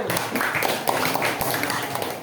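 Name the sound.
applause for group 1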